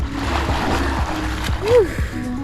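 A person lowers into cold natural spring water in Florida, giving a few soft splashes and sloshes among steady outdoor background noise, with a brief voice near the end.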